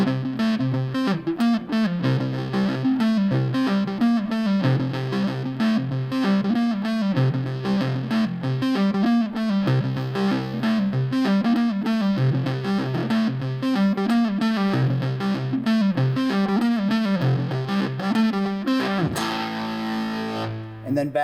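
A distorted electric guitar plays a riff in E, loud and continuous, with no talking over it, before a brief pause near the end.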